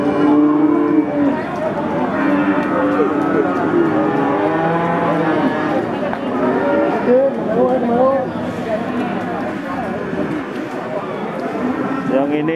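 Cattle moo repeatedly at a livestock market just after rain, several animals calling close by with a busy crowd, while people talk loudly throughout.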